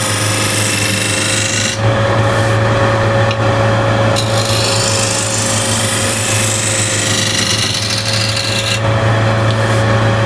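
A hand shear scraper draws across a flat wood surface, producing a steady, close, continuous rasping scrape that runs without break from start to finish over a low constant hum, with no speech.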